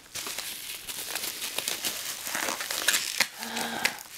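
A taped birthday gift package is unwrapped by hand, with close crinkling, tearing and rustling of paper and tape that comes in uneven bursts for about four seconds.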